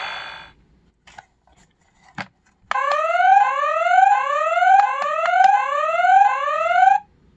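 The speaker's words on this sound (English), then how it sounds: "That's the burglar alarm," A toy Batman Batmobile plays its electronic burglar alarm effect after a few soft clicks, a loud, rapidly repeating rising whoop that sounds for about four seconds before stopping abruptly.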